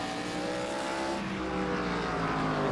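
ARCA race cars at South Boston roar past in a dense, sustained engine drone, with shifting harmonic pitch as several cars run close together on the short track.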